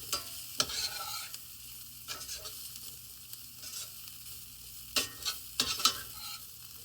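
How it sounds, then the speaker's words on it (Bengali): Soaked flattened rice (poha) is stirred in a frying pan, with a steady low sizzle and repeated scraping strokes of a spatula. Quiet and close, with no talk. "এখন আমি দিয়ে দিব আমার চিড়াটা, যেটাকে আমি ভিজিয়ে রেখেছিলাম পানি"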